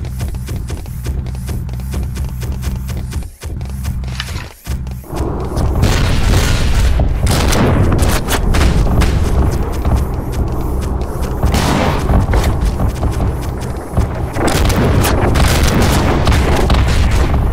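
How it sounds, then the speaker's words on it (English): Repeated booming firework explosions in a video game go off in rapid succession, loud and crackling, continuing steadily with no talk. "One of the guys has a firework."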